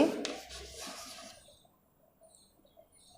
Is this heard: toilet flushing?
no